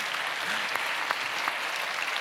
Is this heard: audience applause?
yes